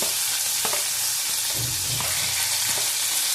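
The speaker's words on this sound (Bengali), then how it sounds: "ভালো করে ভেজে নেব" Sliced onions frying in hot oil with nigella seeds in a pan for a Bengali fish curry: a steady, close hiss of sizzling with a few soft stirring scrapes and no talking.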